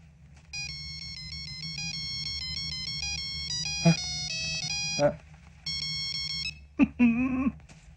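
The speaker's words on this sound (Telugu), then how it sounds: "ring tone sir" A melodic electronic phone ringtone plays a repeating song tune of steady tones, stopping briefly twice, with short bursts of voices cutting in between.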